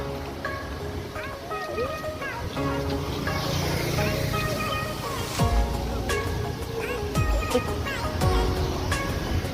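Water fountain splashing near Vijay Chowk in New Delhi on Independence Day, a steady rushing wash of falling water with crowd voices and someone talking over it.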